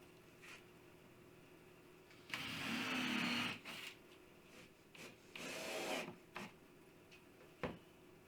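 A power drill drives screws into the top of a wooden floating TV media console, with two long whirring bursts and a few shorter ones between sharp clicks and knocks, heard close up.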